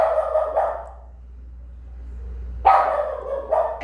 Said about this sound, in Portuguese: Vai latir lá no portão.